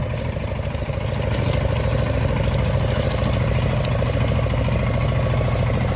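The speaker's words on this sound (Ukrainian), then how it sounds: "Бачимо, як трактор нахиляється в борозні." A Shifeng 350L 4x4 tractor ploughs a corn field, its engine a loud, close, steady drone with a rough clattering pulse that holds for the whole stretch, with no voices.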